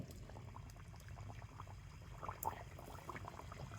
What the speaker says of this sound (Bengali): তেল ভালো করে গরম করে নিয়েছি, আর এবারে আমি পিঠেগুলোকে তেলের মধ্যে দিয়ে দেব।